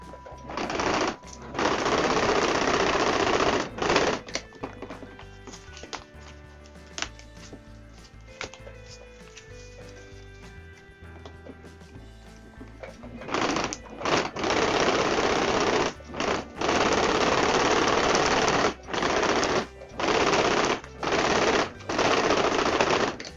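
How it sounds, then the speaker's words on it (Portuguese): A sewing machine with a roller presser foot stitches thick thermal material in long, fast, rattling runs, close and loud, broken by short pauses and then by choppy stop-start bursts near the end. "a máquina não puxa esse material, então por isso que eu tô usando esse calcador de rolinho"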